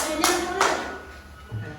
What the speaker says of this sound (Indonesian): Oke, tepuk tangan dulu untuk kelompok 4.